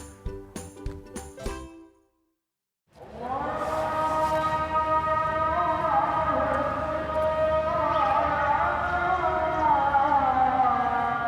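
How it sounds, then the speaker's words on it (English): A sustained, melodic chanted voice of a Muslim call to prayer with rising and falling tones, heard clearly after a short burst of other sounds and a brief pause. "what you're hearing there is a Muslim call to prayer"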